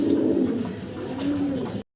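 A male pigeon coos close by, a steady low throaty coo repeating over a couple of seconds, then cutting off abruptly.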